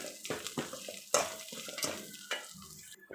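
Grated coconut and curry leaves being sautéed in a pan for spicy ragi puttu: a spatula scrapes and taps the pan a few times in quick strokes over a soft, close sizzle, no talk.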